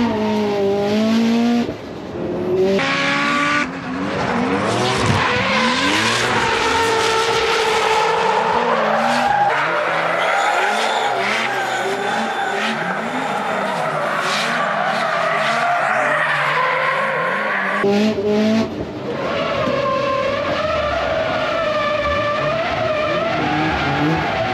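A Toyota 86 / Subaru BRZ drift car slides hard, its tires squealing loudly and continuously over a revving engine, with brief dips as the car transitions between drifts.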